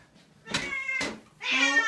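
A cat meows repeatedly while being given a bath: three drawn-out, plaintive cries in quick succession, close and fairly loud, with no talking over them.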